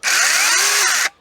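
A HECHT 9919 cordless battery chainsaw runs in a single loud, close burst of about a second, a steady high electric whine that stops abruptly.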